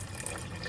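Second coconut milk poured into a pot of Kerala-style jackfruit payasam, a soft steady liquid splash and trickle, quiet and close, with no talk.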